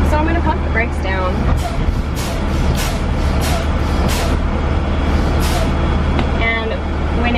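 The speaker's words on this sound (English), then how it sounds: "So I'm going to pump the brakes down." Air brakes on a school bus hiss in repeated sharp bursts as the pedal is pumped down during a pre-trip inspection, each release loud and close over a running diesel idle, with someone talking throughout.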